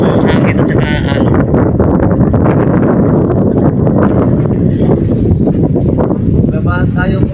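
Strong wind at sea with rough waves roars steadily as a dense, unbroken rush. It stays loud for the whole stretch, with faint voices surfacing briefly near the start and end.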